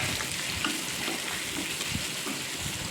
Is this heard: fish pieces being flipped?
yes